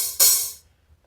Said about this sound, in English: I've got the cymbal sound in there now